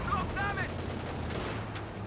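Tank rifle grenade fired during a Company of Heroes match, a sharp report near the start amid constant battle noise and low rumble, with further distant gunfire and faint voices mixed in.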